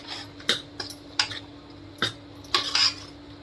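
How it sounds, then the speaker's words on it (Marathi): Spoon clinks against a bowl while garam masala is stirred into a mixture for sambar, a handful of sharp, separate clicks and scrapes in a quiet kitchen. "हे चांगलं मिक्स करून घेऊया मसाला लागला पाहिजे व्यवस्थित"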